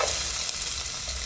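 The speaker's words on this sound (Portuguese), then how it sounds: "Primeira coisa é já aquecer a panela e refogar a cebola." Onion sautéing in a hot pan, a close, continuous sizzle and crackle of frying without pause.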